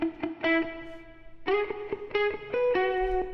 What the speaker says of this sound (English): I've got a Valhalla Room, adding just a little bit of stereo image because I'm recording in mono.